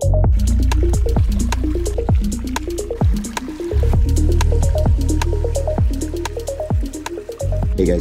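A newly built garden water feature stream in a front yard runs close by, with continuous splashing, trickling and rapid dripping at fairly high volume and no talking.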